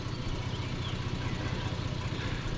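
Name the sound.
loud Jeep engine idling, possible exhaust leak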